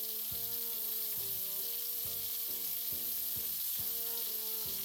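Steak frying in a skillet with its juices: a constant, faint sizzling hiss under soft instrumental music with a plucked melody, and no talking.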